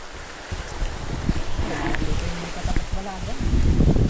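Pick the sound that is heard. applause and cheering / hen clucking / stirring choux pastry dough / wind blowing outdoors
wind blowing outdoors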